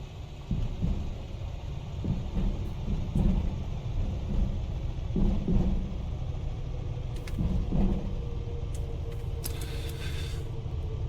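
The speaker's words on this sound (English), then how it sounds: "Pull the nose back, pull the throttle, don't chop it just yet. Main wheel and nose wheel." A Comanche 250 in the A2A flight simulator touches down, its engine a low steady rumble with bumps and thuds as the main and nose wheels meet the runway, with no talk.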